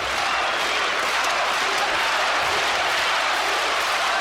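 Arena crowd at an Arthur Abraham versus Jermain Taylor boxing match cheers and applauds in a dense, continuous wash of noise, steady and moderately loud, with faint voices mixed in.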